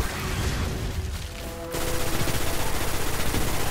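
Automatic gun firing in Destiny, a rapid rhythmic stream of loud shots that cuts in sharply after a quieter opening and continues steadily.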